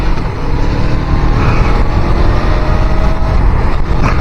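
A motorcycle fitted with a bigger front sprocket rides in first gear on a UK road, giving a loud, steady engine drone mixed with wind rush, heard close up the whole time with no pauses.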